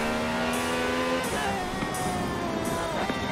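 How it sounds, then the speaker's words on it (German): Car engine revving up through several gear shifts while driving in Forza Horizon 4, a loud, continuous climbing whine that drops and rises again at each change. "Und wieder aufs Gas."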